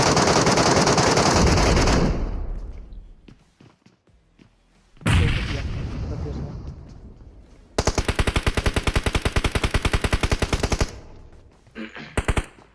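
Gunfire in the BGMI mobile battle royale game, including M24 sniper rifle shots: loud bursts at the start, a heavy blast midway, then a long rapid automatic volley and a few final shots, all close and dominant.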